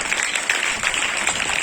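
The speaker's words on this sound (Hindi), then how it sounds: "जोरदार तालियां" A seated audience gives a steady round of applause at a school science model presentation, a continuous dense wash of clapping heard briefly without voices.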